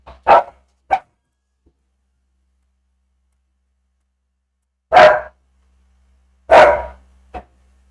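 A dog barks in sharp, separate bursts: two quick barks, a long pause, then three more, loud and close in an otherwise quiet space.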